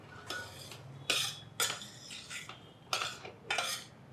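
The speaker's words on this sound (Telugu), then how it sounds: "నేతిలో 1 కప్పు రవ్వ వేయించేసుకుందాం" One cup of semolina roasts in ghee in a pan for bellam kesari prasadam, with a spoon stirring it in about six rhythmic, close scraping strokes and a soft sizzle between them. No one speaks.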